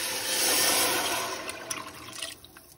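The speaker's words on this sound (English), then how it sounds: "So I'm gonna add 1 liter of water." Water poured into a soup pot, a steady close rushing splash that tapers off toward the end, alone with no talking.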